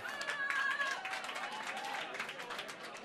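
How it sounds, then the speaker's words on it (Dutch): A small audience claps steadily for a few seconds, moderately distant, with some brief cheering mixed in. "Een applaus voor Nienke."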